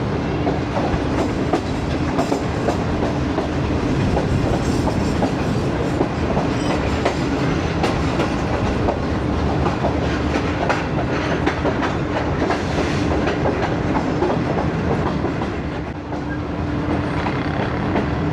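The 28DN Shalimar Express running from Multan toward Karachi, heard from on board: a continuous loud rumble of wheels on rails with repeated clickety-clack beats throughout, no voices.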